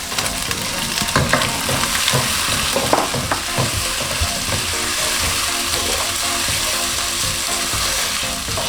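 Garlic, ginger and tomatoes sizzle steadily in hot oil for a Pakistani-style chicken and chickpea curry, with occasional stirring clatter over a continuous loud frying hiss and no talk.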